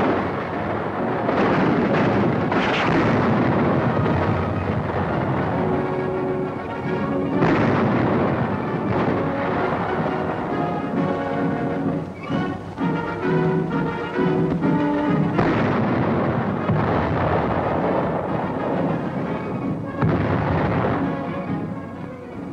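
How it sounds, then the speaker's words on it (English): M3 half-track tank destroyer guns fire at target tanks on a 1943 training range, heavy repeated booms rolling into a continuous loud rumble with no break. "rifles that are to fire at targets 500 to 800 yards afield"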